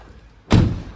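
A door on a Mini Countryman Sport hatchback shuts with a single solid thud, close and loud, after a quiet moment.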